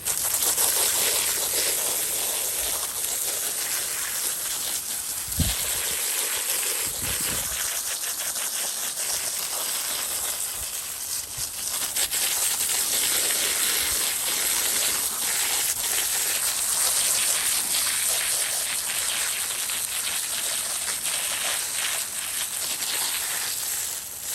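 Running water rinses soil off freshly divided tropical ginger rhizomes, a steady broadband splashing hiss that continues unbroken, with a few low thumps early on.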